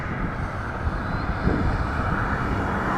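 Air Canada airliner taking off at Toronto Pearson from runway 24 right, a steady broad engine roar with wind rumble, sounding distant and continuous throughout.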